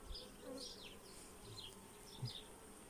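Honeybees buzz in and around an open beehive, a faint, continuous hum with scattered louder passes of individual bees close by, and no voices.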